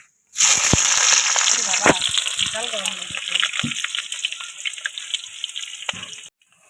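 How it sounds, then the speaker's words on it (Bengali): Onions dropped into hot oil with whole spices on a clay stove, bursting into a loud, steady sizzle that gradually settles into a softer crackle and cuts off near the end. "আর মধ্যে তেল দিয়ে দিচ্ছি, আর ফোড়নও দিয়ে দিচ্ছি। এখন আমি দিচ্ছি পেঁয়াজগুলো।"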